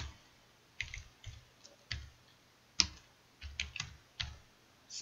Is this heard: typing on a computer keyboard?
yes